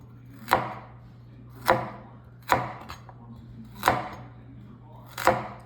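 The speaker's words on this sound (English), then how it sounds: "So again, I'm just cutting these in like 1-inch chunks." A kitchen knife chopping carrots into one-inch chunks on a cutting board, five crisp, evenly spaced thunks about a second apart, close and clear over a faint steady hum.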